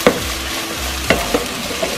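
Shrimp egg fried rice is stir-fried with soy sauce, giving a close, steady sizzle broken by a few sharp scrapes and clicks of the spatula against the pan. No one speaks.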